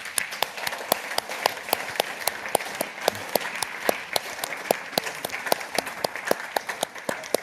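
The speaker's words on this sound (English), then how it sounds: "I think we should all give him a very big round of applause and a very warm welcome." A forum audience at an art conversation event claps steadily, with sharp, evenly spaced hand claps from a modest crowd, moderately near and continuous without talk over it.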